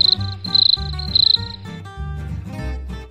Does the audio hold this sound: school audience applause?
no